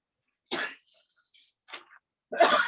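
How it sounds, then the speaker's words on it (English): Three bursts of coughing, one short and sharp, a softer one after a pause, then a louder harsh cough at the end, close by with no speech. "I cannot stop coughing."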